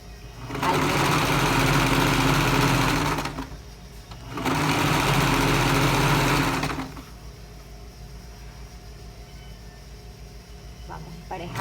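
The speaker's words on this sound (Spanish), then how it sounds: "Vamos emparejando y cosiendo." Two loud, close bursts of a sewing machine stitching the seams of women's trousers, each running about three seconds with a short pause between, then falling to a quiet room hum.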